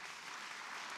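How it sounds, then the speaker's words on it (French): An audience applauds at a 2024 New Year's wishes ceremony in a town hall. A brief, dense burst of clapping, steady and moderately loud, with no talking. "On peut l'applaudir"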